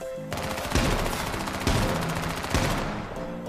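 Rapid automatic gunfire in the battle-royale game H1Z1, with three heavier bursts standing out over a continuous loud rattle of shots and no talking.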